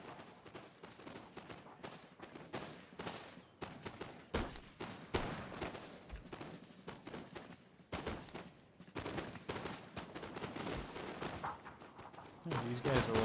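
Musket volleys crack and pop in a Carlist Wars battle game, dense overlapping shots in irregular bursts, some near and loud, others distant, running nearly continuously over a busy battlefield din.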